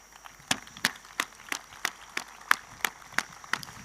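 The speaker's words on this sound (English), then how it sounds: "I want to ask each of the students to stand up and clap for their parents" Students stand and clap for their parents at an orientation programme, giving a steady, evenly spaced run of sharp hand claps at moderate volume with no talking.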